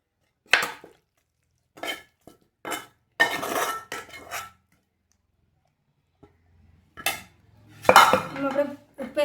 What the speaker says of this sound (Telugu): కొంచెం ఎల్లిపాయలు కొంచెం కచ్చపచ్చగా దంచుకుందామని